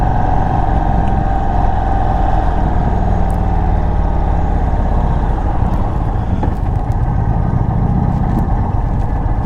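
An Indian Sport Chief RT motorcycle engine drones steadily through a test ride, a loud continuous rumble with road and wind noise, holding an even pitch with slight shifts near the end.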